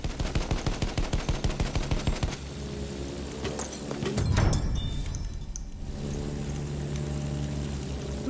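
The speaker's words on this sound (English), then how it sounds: "they are shooting me!" Rapid automatic gunfire from the WWI shooter Battlefield 1, a steady rhythmic burst of sharp, evenly spaced shots for about two seconds, followed by a louder blast and rumbling battlefield ambience.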